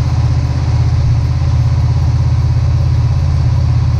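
A Honda VFR 800 motorcycle engine running at a steady idle, a loud continuous low rumble close by with an even throbbing pulse and no voices.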